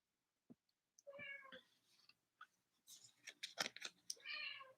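A domestic cat meows several times in close succession, drawn-out and tonal calls rising and falling, near and fairly clear against a quiet room.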